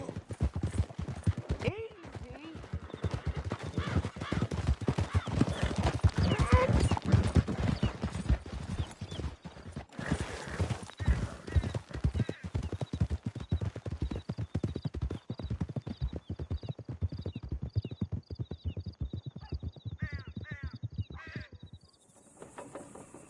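Horses galloping hard through a canyon in Red Dead Redemption 2, a dense, rapid drumming of hooves carried under shouting voices, thinning out near the end.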